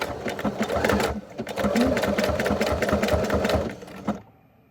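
A home sewing machine set to its slowest speed stitches through fabric for Christmas gift crafting, a close rapid mechanical chatter in two bursts with a brief pause between, then stopping abruptly; a voice speaks faintly at times.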